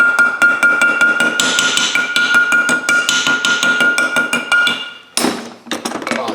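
A hammer strikes metal in a rapid, steady series of sharp ringing blows, loud and close, during a Ford Taurus rear wheel bearing and hub job, followed by a scraping clatter near the end.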